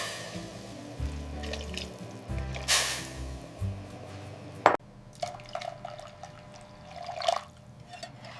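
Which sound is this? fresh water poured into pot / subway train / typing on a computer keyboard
fresh water poured into pot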